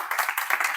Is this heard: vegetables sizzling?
no